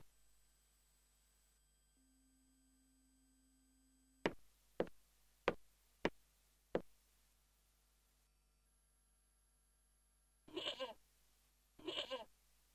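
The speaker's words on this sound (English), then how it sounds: "The goat was tangled up with the old plow." A goat in Broken Sword 1 gives two short, loud bleats near the end of a quiet stretch, after a run of sharp clicks.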